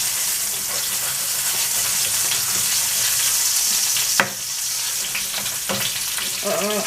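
Peppers hit a very hot pan and fry with a loud, steady sizzle that hisses close up throughout, punctuated by a sharp clank and a few scraping stirs near the end.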